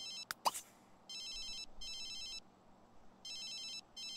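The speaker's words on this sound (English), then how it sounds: "Answer phone. Get up and answer it!" A phone in the life-simulation game The Sims 3 rings in three repeated electronic bursts, each about a second long with short gaps, following a couple of brief clicks at the start, with no talking over it.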